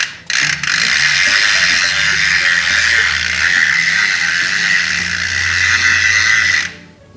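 A bicycle freehub on a Saturn Calypso hub with a 10-speed cassette buzzes with a rapid, continuous ratchet clicking while freewheeling, loud and close, running for several seconds before stopping abruptly.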